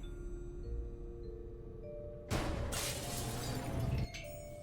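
Glass shatters above a lab door in the video game Gibbous: a loud, sustained crash of breaking glass that lasts nearly two seconds over a steady game music and ambience bed, with the bed continuing after the crash.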